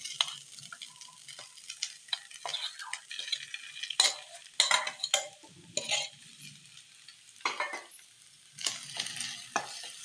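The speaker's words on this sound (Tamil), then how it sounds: "இப்போ நம்ம ரைஸ் இதில் ஆட் பண்ண போகிறோம்" Cooked rice stir-fried in a pan with garam masala and pepper for fried rice, close spatula scrapes and metallic clatter against the pan in uneven bursts over a light, intermittent sizzle.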